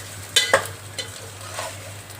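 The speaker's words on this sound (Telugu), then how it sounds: "ఇది బాగా కలుపుకోవాలండి. ఈ మసాలా అంతా ఎగ్స్కి పట్టుకోవాలండి." Eggs being stirred in masala in a hot pan, a couple of sharp scraping clicks followed by softer stirring scrapes over a low sizzle.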